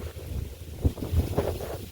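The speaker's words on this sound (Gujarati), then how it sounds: "પવન બહુ બધો છે એટલે અવાજ થોડો ધીમો આવશે ને" Strong wind buffets a microphone outdoors at a wheat farm, producing heavy low rumbling gusts that swell and fade in uneven bursts, with no speech.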